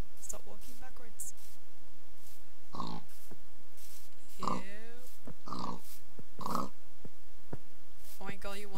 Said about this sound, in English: Oink, all you want, piggies.